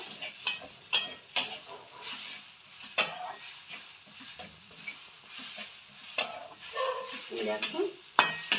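Coconut and khoa filling with ginger stirred in a pan for dudh puli, with a soft sizzle under intermittent spatula scrapes and knocks against the pan.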